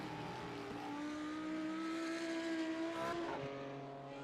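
GT3 race cars, including Lamborghini and Ford GT entries, scream past at Road America in a sim racing game: a sustained rising engine whine climbs steadily, then cuts off sharply as the car shifts or brakes, with faint tire noise underneath.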